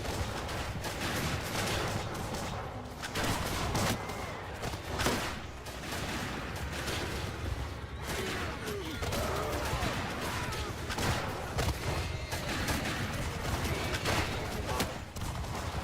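Dense video game battle gunfire crackles in rapid, continuous volleys of musket-like shots, with cavalry and cannons in the fight, loud and sustained throughout without speech.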